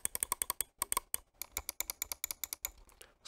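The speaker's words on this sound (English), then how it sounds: "right click" A string of fast, crisp right-button clicks from a Logitech G Pro X Superlight mouse comes in close, dense bursts with brief pauses, like rapid tapping, with no voice over them.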